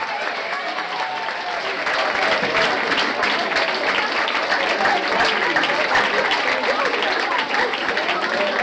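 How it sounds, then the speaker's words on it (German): Steady, dense applause from an audience honouring staff members, loud and continuous throughout with a broad wash of clapping hands and no clear pauses. "Großen Applaus an alle Mitarbeiter."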